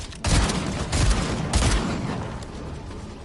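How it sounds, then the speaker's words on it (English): Video game gunfight on an island: bursts of rapid gunfire, several loud crackling volleys in quick succession over about three seconds, with no voices. "And of course, there's gunfight on the island."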